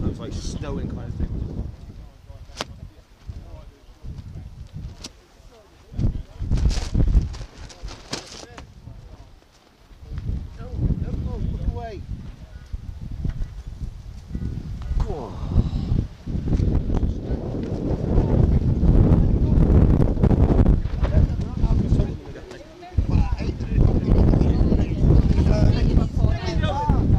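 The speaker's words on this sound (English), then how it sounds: "It's a bit windy here" Gusty wind outdoors at Edale in the Peak District buffets the microphone in strong rumbling bursts that build toward the end, with people talking and some footsteps underneath.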